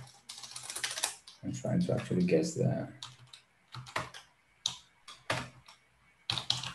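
Bursts of clicky computer keyboard typing alternate with someone speaking. The keystrokes come in short, close clusters separated by pauses.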